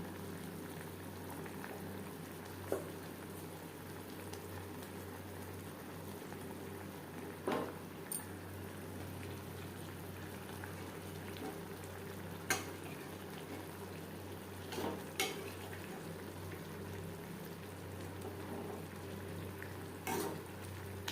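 Bata fish simmering in a potato and green banana curry in a pan, a steady soft bubbling hiss throughout with a few faint clicks and light taps, close by and with no talk.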